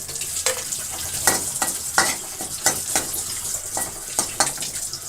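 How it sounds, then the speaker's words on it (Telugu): Mustard seeds crackle and sizzle in hot oil in a pan, a steady frying hiss punctuated by sharp pops and stirring scrapes, close and loud with no voices. "తర్వాత కొంచెం ఆవాలు వేస్తున్నా."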